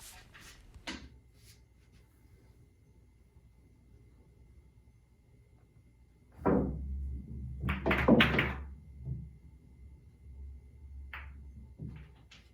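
Billiard balls knocking together during a pool trick shot, with a sharp cue strike early on, a cluster of clacks and rolling thuds midway, and a few lighter ball taps near the end in a quiet room.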